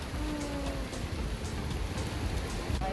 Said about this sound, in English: Oh my gosh, it's a little baby hail.